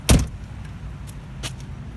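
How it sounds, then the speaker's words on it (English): A single solid thump of a car door shutting on a 1997 Lincoln Town Car Signature, close and loud at the start, followed by faint clicks and light rattles. "Let's close that door all the way."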